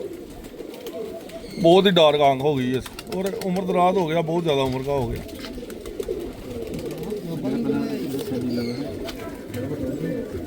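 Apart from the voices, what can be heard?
pigeons cooing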